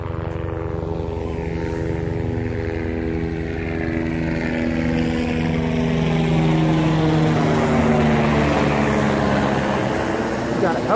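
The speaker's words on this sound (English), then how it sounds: "We got a helicopter flying overhead." A helicopter passes overhead at dusk near a field where an RC plane fitted with tri-blade props is flown, its rotor drone steady and loud with a slow sweeping whine throughout, growing slightly stronger toward the end.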